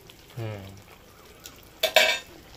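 A spoon stirs doi begun, an aubergine and yogurt curry, in a pan, making a few brief scrapes and clinks against the metal, including a sharper pair of knocks near the end, close and without speech.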